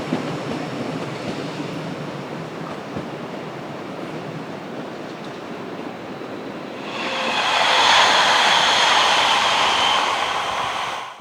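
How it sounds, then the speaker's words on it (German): A Rhaetian Railway ABe 4/16 train arriving at its Chur terminus, with a steady, close rolling rumble that swells into a louder, brighter hiss in the final seconds. "Der Zug wird gleich seinen Endhalt, den Bahnhof Chur, erreichen."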